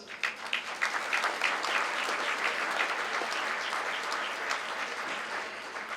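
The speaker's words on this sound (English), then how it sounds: "a round of applause, please" An audience at a Hellenic community gastronomy event in Montreal applauds steadily for several seconds, a dense, even wash of clapping at moderate distance with no voices over it.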